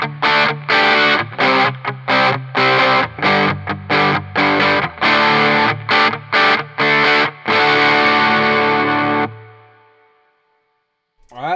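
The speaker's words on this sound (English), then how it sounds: "let's go and boost up the distortion to 9 o'clock." Electric guitar through a distortion pedal with the distortion knob at 9 o'clock, strummed in loud, rhythmic chopped chords that end in a sustained ringing chord fading to near silence.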